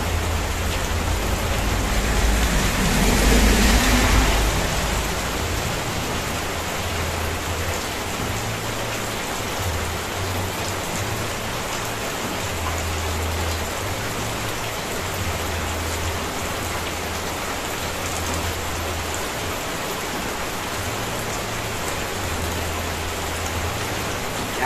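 Heavy rain falls in a constant, dense hiss in the rural Philippine countryside, with a low rumble swelling early on, steady and unbroken throughout.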